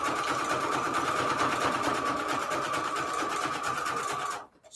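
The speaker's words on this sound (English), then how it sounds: "Or I could just, let me just continue with the zigzag." A sewing machine runs a zigzag stitch across a vellum pocket, a steady, close, fast mechanical whir that continues without a break and cuts off abruptly near the end.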